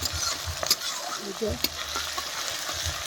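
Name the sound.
onions and tomatoes frying in oil with spices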